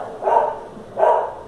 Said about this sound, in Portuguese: E os meus cachorros não param de latir.